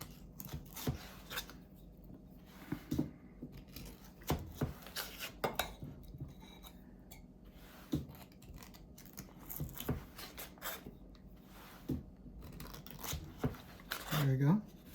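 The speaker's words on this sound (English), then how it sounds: "So let's cut some butter" Butter is cut into a strawberry cobbler mixture, making a series of soft scraping clicks and taps against a dish. The sounds are spaced irregularly and come at a modest level, with talking heard alongside them.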